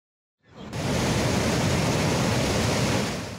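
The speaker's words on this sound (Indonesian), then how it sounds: "ini mengakibatkan debit air di Sungai Regoyo ini mengalami peningkatan yang sangat drastis" The Regoyo River runs swollen after heavy rain and a Semeru cold lava flood, its water rushing as a loud, steady broadband roar that starts abruptly and continues without voices.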